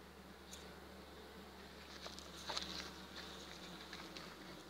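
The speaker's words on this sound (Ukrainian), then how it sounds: "Дуже миролюбні, спокійні бджоли." Buckfast honey bees fly around a hive, a faint continuous buzzing hum with occasional closer passes.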